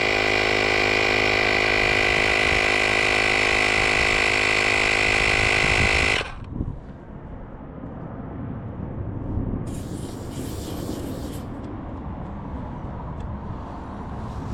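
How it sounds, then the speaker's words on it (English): A portable air compressor inflating a bike tire, set to shut off automatically at 42, runs with a loud, steady droning hum for about six seconds, then cuts out abruptly, leaving faint outdoor background noise. "Now I'll put air in the front tire here too"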